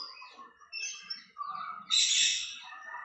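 Birds chirp and squawk around a tall banyan tree behind a Pochamma temple, a cluster of bright overlapping calls that swells louder toward the end, fairly close, with no talking.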